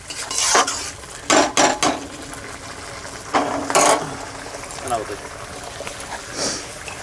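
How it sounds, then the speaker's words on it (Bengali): Spice masala stir-fried in a pan for chicken curry, with utensil scrapes and clatter against the pan in bursts over a low sizzle, under occasional talk. "মশলাটা কিছুক্ষণ ধরে কষবো"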